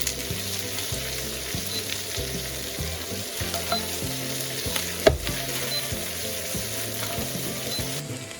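Scallion segments stir-fry in a wok on high heat, a loud, continuous sizzle with regular rhythmic scraping and stirring strokes throughout, no voices.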